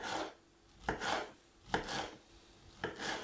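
A knife saws through fresh pineapple into slices, three or four slow, close rasping strokes each ending in a soft thud on the board, with no speech.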